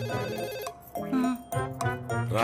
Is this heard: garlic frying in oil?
no